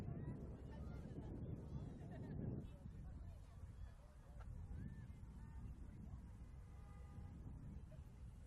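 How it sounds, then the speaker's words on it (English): Gusty wind buffets the microphone at an outdoor women's football match in Adelaide, a steady low rumble running throughout with a stronger burst early on, while a commentator talks over it. "Wind has really picked up a little bit."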